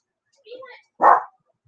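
A pet dog named Oreo gives a quick yip followed by one loud, close bark, with silence on either side.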